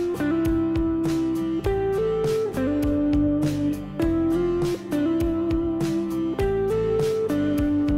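Guitar soloing over chord changes with hammer-on articulations, quick legato notes sounding over a dense, continuous backing track, loud and clear with no voices.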